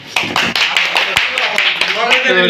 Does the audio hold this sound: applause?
yes